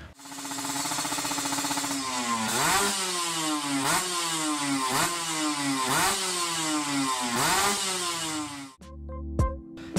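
Two-stroke Kawasaki Ninja motorcycle fitted with a racing exhaust, revving hard in repeated rising blips over a raspy idle, loud and close, ending in a brief clatter.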